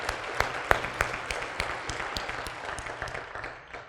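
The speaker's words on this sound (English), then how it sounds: "One more round of applause to someone who's done it before." Scattered applause from dinner guests at a president's council dinner, fairly quiet and distant, with a few sharper individual claps standing out before it thins toward the end.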